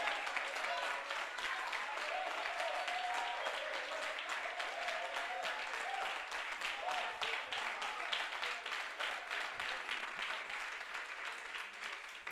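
A church congregation at a prophetic worship service applauding: sustained, dense rhythmic clapping from many hands, steady and fairly loud throughout, with a faint voice in the background.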